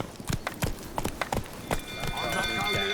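Horse hooves clip-clop at a quick, uneven trot in The Witcher 3, with a voice speaking over the hoofbeats and a steadier rumble building toward the end.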